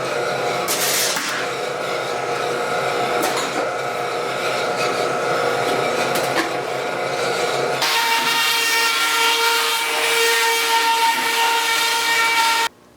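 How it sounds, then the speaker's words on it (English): A metal-cutting bandsaw cuts out sheet-metal body panels for a 1937 Studebaker, a continuous close grinding, buzzing drone that shifts to a brighter, harsher tone partway through before stopping abruptly. "I like having a metal cutting bandsaw. It makes quick work of cutting these out."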